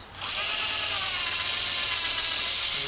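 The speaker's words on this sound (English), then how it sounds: "I only use this Harbor Freight drill for stuff like this and for drilling for pop rivets sometimes" A Harbor Freight cordless drill spins up sharply and runs at a steady high whine for nearly three seconds, close and loud, while drilling into decking for a rotted bench repair.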